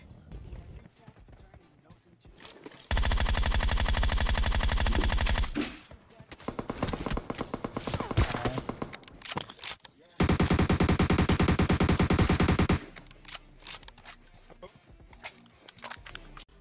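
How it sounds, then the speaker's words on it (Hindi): In PUBG Mobile, loud gunfire erupts in two long, dense bursts of rapid shots, with scattered single cracks and footsteps between them and a voice talking under the game sounds. "और ये वाली AWM के साथ स्नाइपिंग करने में अलग ही मजा आ रहा है।"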